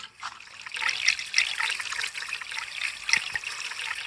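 Water trickles steadily from a tap in a Toca Kitchen game kitchen, a continuous close splashing stream with small clinks over it.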